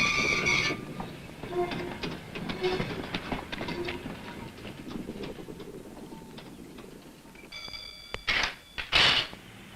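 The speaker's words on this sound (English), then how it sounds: "One wagon might have to be shunted several times before it was able to leave the district" Freight wagons shunted around a busy 1960s city rail yard, with rolling clanks, knocks and rumble throughout and a couple of sharp high metallic squeals near the end.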